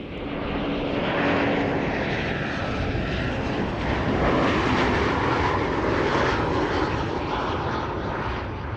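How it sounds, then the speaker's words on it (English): Boeing 787 Dreamliner airliner flying at Amsterdam Schiphol Airport, a steady broad engine roar holding loud and even throughout with no talking. "There it is, Dreamliner in the background on the left"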